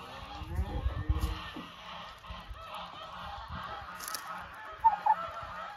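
Geese kept in a yard alongside chickens honk in a few scattered calls against low background rumble and handling noise, with one clearer honk near the end, at moderate distance and fairly faint.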